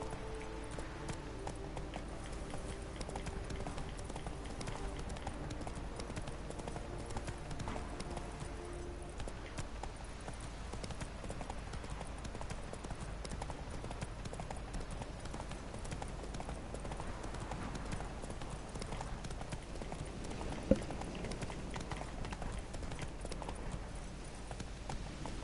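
Horse hooves clip-clop at a gallop in a PS4 video game, a steady rapid patter that runs for the whole stretch beneath constant background music, moderately loud.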